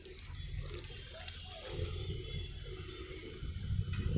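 Water poured from a vessel onto a shrine platform during the Pana Sankranti festival, a steady splashing flow heard close by and alone for several seconds.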